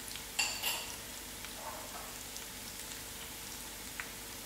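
Curry leaves and mustard seeds hit hot oil with a sharp crackling burst at first, then settle into a soft, steady sizzle with faint occasional pops.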